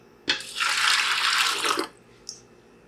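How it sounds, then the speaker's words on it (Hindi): Water poured into a pressure cooker holding overnight-soaked wheat, rice and lentils for harissa, a steady close splashing stream lasting about a second and a half, then a small splash. "अब साथ ही हम इसके अंदर 6 कप के करीब पानी डाल देंगे।"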